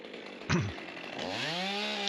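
A chainsaw runs during a rope-wrench tree climb, with a sharp burst near the start and then a steady engine drone whose rising harmonic whine settles into a sustained, fairly close buzz.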